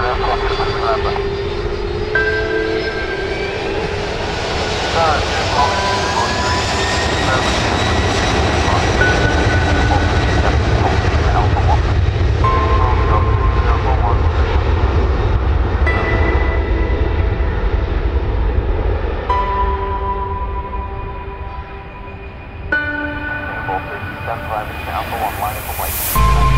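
An aeroplane taking off from runway 23 left at Manchester, a loud sustained engine roar that builds steadily, with radio voices and background music layered over it.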